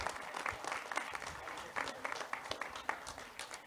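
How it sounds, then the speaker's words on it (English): Audience applause for a person being introduced at an organization's evening event, a steady wash of many hands clapping at moderate distance, fairly faint, with some voices mixed in. "Please, big round of applause to my pal,"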